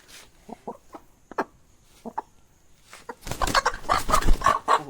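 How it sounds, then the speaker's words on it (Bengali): A rooster on a farm gives short, clipped clucks, spaced irregular calls close by, then a louder burst of rustling, flapping and scuffling activity toward the end, with no talking. "আর মুরগাটা দেখতে পাচ্ছেন আপনারা, এর নেজগুলো খুব সুন্দর মুরগা।"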